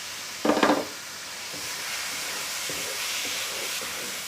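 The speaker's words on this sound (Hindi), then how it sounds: "हाफ़ मसाले में हम ये कीमा ऐड करेंगे।" Boiled keema is tipped into masala in a hot pan, giving a sharp burst of sizzle on contact that settles into a steady, soft frying hiss with faint stirring scrapes.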